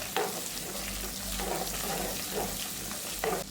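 Chopped onion and a chili dropped into a pan frying with lentils for mango rice, a steady close sizzle with occasional scraping of a spoon.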